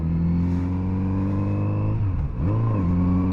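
A Kawasaki Z900RS motorcycle on stock pipes holds a steady loud drone, then dips briefly as the throttle drops and climbs again.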